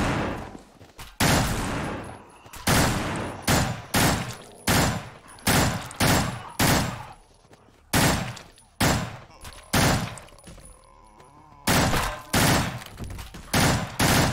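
Loud automatic gunfire in a video game empties the last magazine, coming in repeated bursts with short gaps between them, close and dominant with no talk.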